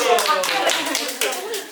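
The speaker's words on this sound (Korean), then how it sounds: "박수" A group of children at a church school quiz clap together in a quick burst, with young voices talking over the applause.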